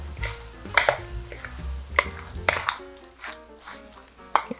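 Chives, onion and chopped chili are stirred into a flour batter for a Korean chive pancake, giving irregular clinks and scrapes of a utensil against a bowl over soft background music.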